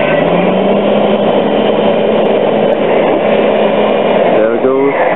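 Caterpillar D5 bulldozer working at Halley station in Antarctica to break out a snow-buried sledge, a loud, continuous engine drone close by with shifting tones near the end.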